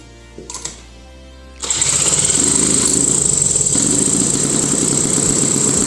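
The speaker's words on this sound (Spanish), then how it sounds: "arranca como una moto nueva" A 1942 bicycle fitted with a motorcycle engine fires up after a few faint clicks, then settles into a loud, steady, rapid putter that keeps running close by.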